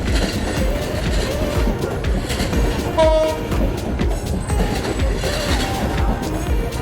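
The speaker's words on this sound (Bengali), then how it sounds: "এই যে ট্রেন যাচ্ছে" A train rumbles past nearby in Nowhata, Rajshahi, with rhythmic clattering wheels, a brief horn-like tone and metallic squeals over the steady roar.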